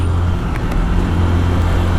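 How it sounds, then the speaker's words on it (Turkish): Loud, steady road-traffic roar surrounds a Mondial 125 Drift L motorcycle, with a continuous low engine and tyre rumble and no gaps. "Oh, trafik var."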